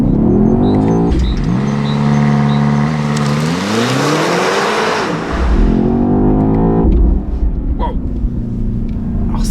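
A powerful BMW XM 653 hp sports SUV engine revs and roars as it launches hard from standstill, pitch climbing through the gears, then drops back to a steady drone.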